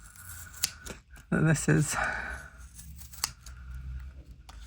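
Scissors make several crisp snips cutting up the middle of a handmade cardboard Christmas bauble, with rustling of the material, all under a person talking.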